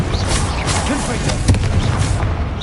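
Hogwarts Legacy combat with a Confringo fire blast spell bursting in a dull, booming explosion amid a busy, dense mix of other spell effects and game noise, close and steady in loudness, with a voice over it.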